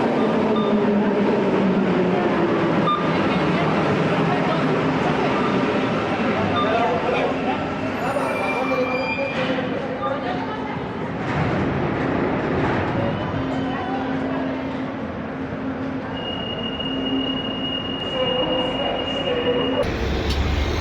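Riding a Santiago metro train heading east toward the city centre: a steady loud rumble of the carriage with wheel squeals and rattles, and faint voices of passengers mixed into the din.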